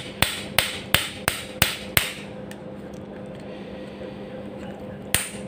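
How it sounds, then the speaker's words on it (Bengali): A hammer strikes a metal pipe to drive it out of a sewing machine part during repair, six quick evenly spaced metallic knocks, then a pause and one more knock, over a low steady hum. "এই পাইপের এখানে আমরা আঘাত করব যাতে এই পাশ দিয়ে বের হয়ে যায়"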